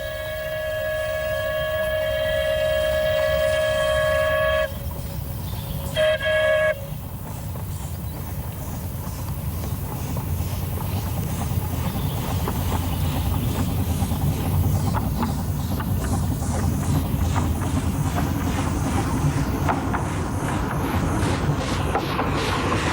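The quarry steam locomotive Dol Badon on the Llanberis Lake Railway sounds a long, sustained harmonic whistle, then a shorter second blast, before its running train settles into a steady rumbling rattle at up to 15 mph.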